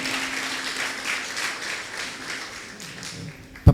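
Guests applauding at a wedding in Guayaquil, a moderate, even patter of clapping that slowly tapers, ending with a sudden loud thump.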